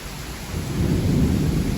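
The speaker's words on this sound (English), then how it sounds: "We're gonna listen to the storm" Steady rain hisses from a Florida thunderstorm heard from an apartment patio, with a low rumble of thunder swelling midway, nearby and continuous, with no voices.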